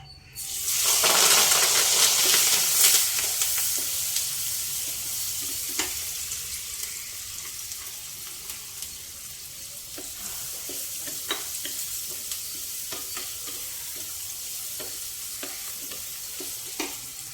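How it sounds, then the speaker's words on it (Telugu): Onion, green chilies and curry leaves hit hot oil for a Telugu mutton dosakaya curry. A loud burst of sizzling fades into a steady, hissing fry, with scattered clicks and spoon stirs. "ఇదిగోండి ఉల్లిపాయ, పచ్చిమిరపకాయ, కరివేపాకు ఈ 3 వేసేసుకున్నాం."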